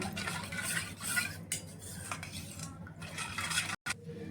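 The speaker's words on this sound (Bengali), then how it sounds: "তো ইস্টটা ভালো করে দুধের মধ্যে মিশিয়ে নেব।" A spoon clinks and scrapes in a bowl while stirring yeast, sugar and salt into warm milk, a steady close run of small metallic taps and swishes with a brief pause near the end.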